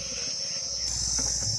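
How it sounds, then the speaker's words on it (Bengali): Crickets chirp in a quiet, deserted spot near a ghat on an island close to the Sundarbans, a dense, continuous high trill heard close and alone. "আর কেমন ঝিঝি পোকার আওয়াজ।"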